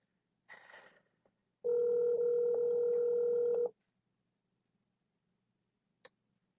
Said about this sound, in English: Okay, we're going to call him right now.